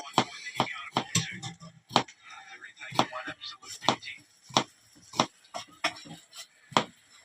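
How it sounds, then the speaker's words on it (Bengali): A knife strikes a cutting board over and over as onions are chopped for fried iftar snacks, with sharp, uneven knocks that are fairly close and clear and have short pauses between them. "দেখেন কত সুন্দর করে পেঁয়াজ কাটতেছে"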